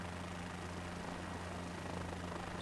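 Helicopter in flight in the video game Microsoft Flight Simulator 2024, a steady droning rotor and engine hum with strong low tonal bands, continuous and even throughout with no talk.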